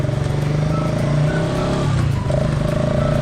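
A Honda Sonic motorcycle with a CB-type engine runs steadily, a loud, close, continuous idle-to-light-throttle hum with a slight dip in pitch midway, no talking.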